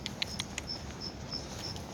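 Crickets chirp outdoors at night in a soft, thin series of high pulses, quiet and fairly distant, with a few faint light taps mixed in and no talking.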